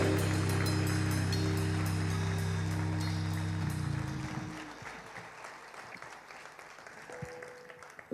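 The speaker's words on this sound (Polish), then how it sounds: "Wielkie brawa." An audience at a concert applauds loudly and steadily, the clapping fading after about four seconds into scattered claps while a sustained musical chord rings out and dies away underneath.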